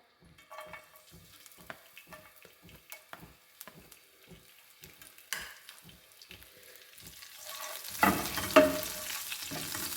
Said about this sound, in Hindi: अब इसी पैन में हम दोबारा से 1 टेबलस्पून डाल के ऑयल का इसमें हम सॉस तैयार कर लेंगे। सबसे पहले हम डालेंगे इसमें लहसुन।